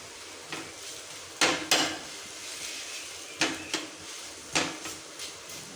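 Besan poli cooking in a pan just after being flipped: a faint steady sizzle broken by a few sharp spatula scrapes and taps against the pan, arriving in pairs and singles.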